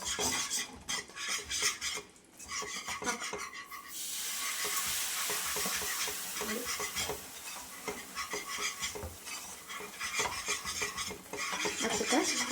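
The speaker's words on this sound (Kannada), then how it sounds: "ಈ ರೀತಿ ಹಾಕ್ಕೊಳ್ತಾ ತಿರುಗಿಸ್ತಾನೆ ಇರಿ ಹೀಗೆ." A spoon scrapes and stirs gram flour and oil in a pan for Mysore pak, producing continuous, fairly loud metallic scraping and clinking over a bubbling sizzle, with no voices.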